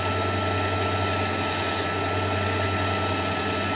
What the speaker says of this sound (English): if you push the sandpaper too hard, you'll get lines